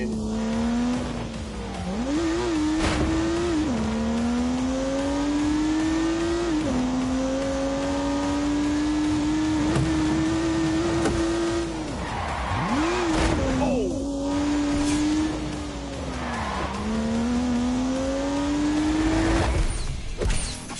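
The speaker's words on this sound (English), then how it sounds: "unleashed 365 rampaging horsepower from the turbocharged 3-litre straight six" Turbocharged 3-litre straight-six car in The Grand Tour video game, its engine note climbing steadily through gears with repeated upshift dips, tire squeal and occasional mechanical clunks, loud and continuous throughout with talk over it.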